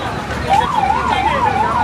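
A fire brigade tender's siren wails in a steady rising and falling cycle, loud and close over roadside noise, with voices faintly in the background.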